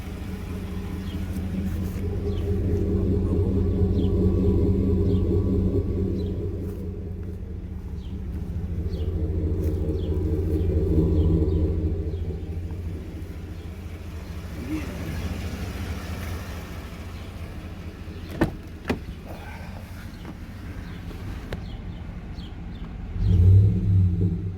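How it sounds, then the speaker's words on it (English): A 2018 Silverado pickup engine with a Gibson dual exhaust runs at a low, steady idle rumble that swells and eases a few times, ending with a brief throttle blip near the end. "So you can hear the engine."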